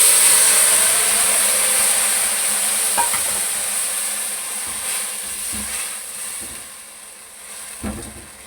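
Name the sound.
jaggery syrup added to frying vermicelli, stirring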